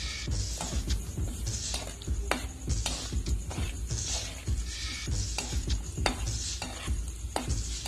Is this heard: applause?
no